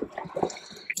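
Water and scum from boiling a ham are poured out of a pan into a sink in short, faint splashes and drips. A brief brighter splash comes near the end.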